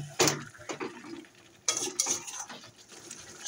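A chicken biryani mixture is stirred in a pot, with a spoon scraping and clanking against the metal in irregular bursts separated by quieter pauses, close and fairly loud, with no voices.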